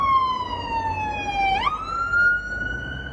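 An ambulance siren passes by, a loud sustained wail with a pitch drop as the vehicle goes past, heard alone with no talk.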